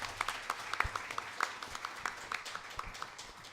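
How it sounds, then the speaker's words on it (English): A panel audience at a press club event claps in a brief, scattered round of applause, individual claps distinct and fairly faint, with no one speaking over it. "Can we just give Kun Anutin a quick round of applause?"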